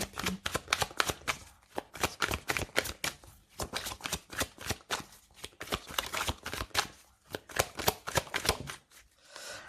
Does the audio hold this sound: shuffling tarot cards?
yes